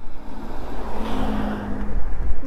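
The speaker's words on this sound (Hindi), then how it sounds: "अब गाड़ी आ रही है" A road vehicle rumbles closer through steady broadband engine and tyre noise, fairly loud and continuous, with no voices over it.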